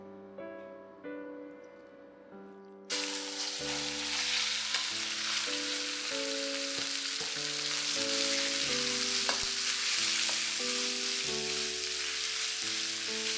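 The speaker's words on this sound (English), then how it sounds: "When it starts to smoke, add in the beef." Beef hits smoking-hot oil in a stir-fry pan and erupts into a loud, steady sizzle that continues unbroken, with light background music playing underneath and a quieter musical lead-in before the meat goes in.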